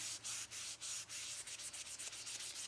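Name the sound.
tissue rubbing over a chalk pastel drawing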